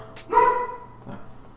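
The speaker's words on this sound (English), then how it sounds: "sorry for the dog" A dog barks nearby indoors, one sharp bark followed by a softer second yip a moment later, heard alone with no talking.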